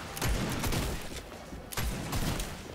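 Gunfire in Fortnite, a burst of close, sharp shots followed after a short gap by another pair of cracks over a steady background of game noise.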